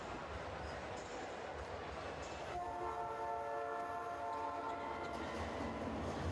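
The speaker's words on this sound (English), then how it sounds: "There you hear the Tren del Norte, the Real Estelí train." A loud train horn blares in a sustained blast over a noisy basketball crowd in a large echoing arena.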